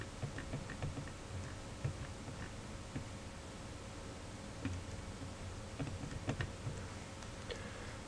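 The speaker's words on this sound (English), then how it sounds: "which I'm going to do on my calculator rather than on paper here" Calculator buttons are pressed in a series of faint, scattered light clicks and taps over quiet room noise, with no voices.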